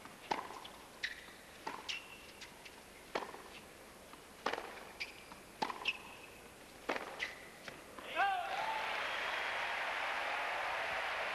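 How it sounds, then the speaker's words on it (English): Sharp tennis ball strikes pop out at intervals in a Federer–Hewitt 2004 US Open match, then a broad wash of crowd noise swells up and holds steady, like a stadium audience roaring and applauding. "Just listen to that crowd."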